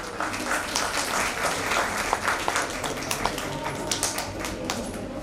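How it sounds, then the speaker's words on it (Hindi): An audience at an annual institute cultural programme gives a huge round of applause for the teachers, a dense and steady clapping that holds at an even level throughout with a few sharper claps standing out. "Please welcome them with a huge round of applause."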